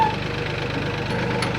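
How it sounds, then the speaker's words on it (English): A tractor engine runs at a steady idle with a rhythmic low knocking chug, loud and close, with no voices. "I got to start up the tractor to lift up the 3-point hitch"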